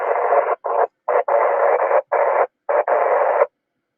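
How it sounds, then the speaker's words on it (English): Bursts of noisy radio static as a station keys up on a 10-meter amateur net around 28.415 MHz, arriving in several choppy chunks with brief gaps before dropping to silence. "I hear somebody breaking the squelch."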